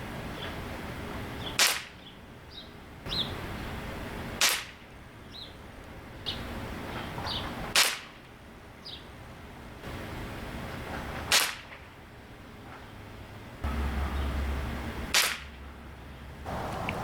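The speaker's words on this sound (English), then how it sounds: "I'm going to show you the accuracy test with the original trigger and the original scope, shooting the Crosman Premier Hollow Points" A Crosman TR77 NPS .177 short-barrel air rifle fires Crosman Premier Hollow Point pellets, giving six sharp, evenly spaced cracks a few seconds apart over quiet outdoor background with faint birdsong.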